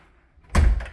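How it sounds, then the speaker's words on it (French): An interior door leading into a garage swings open with a short, loud thump and a brief rattle, one close impact after near silence. "on ouvre la porte, bang"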